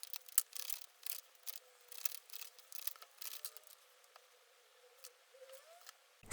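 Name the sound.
shuffling cards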